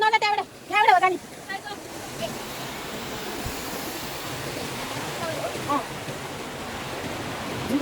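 Stream water rushes steadily near a village, a continuous loud broadband flow filling the scene after a brief moment of speech at the start.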